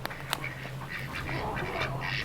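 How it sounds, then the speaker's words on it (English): Ducks at feeding time quack repeatedly in a busy, overlapping chorus close by, with a few sharper calls standing out over a steady background. "Hi, ducks."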